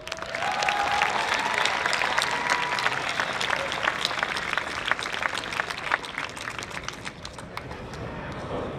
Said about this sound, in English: Please give a round of applause to your ASB President, Matthew Tridasavit.